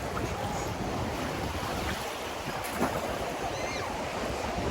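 Sea waves wash onto a sandy beach in a constant surf roar, buffeted by wind noise on the microphone, with no talking.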